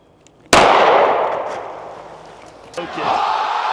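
A 9mm handgun loaded with hollow point rounds fires a single loud, sharp shot at a watermelon, the crack fading away before a smaller thud follows.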